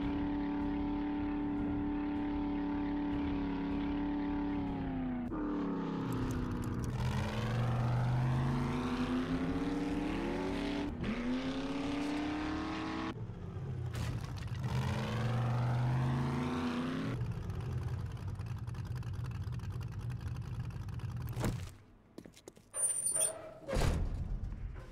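Vehicle driven in the 7 Days to Die video game, a steady engine drone that shifts pitch several times as it speeds up and slows, ending with a few clunks and short noises as it stops.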